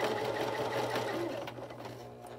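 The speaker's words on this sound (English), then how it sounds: "And now I'm sewing down here" A sewing machine runs continuously, stitching down the bodice of an 18-inch doll dress with a close, steady mechanical hum.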